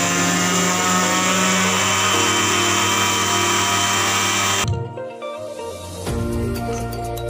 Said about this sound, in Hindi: अब हम इसमें वापस ग्राइंड करेंगे।